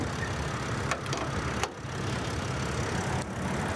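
A Mercedes-Benz 3-liter six-cylinder turbo diesel in a 2023 Winnebago Adventure Wagon 70 SE idles as a steady low rumble, with a few brief clicks over it.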